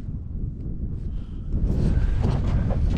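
Wind on a ski trek through the Käsivarsi wilderness blows steadily as a low rushing roar, growing stronger and louder halfway through and buffeting the microphone, with no talk.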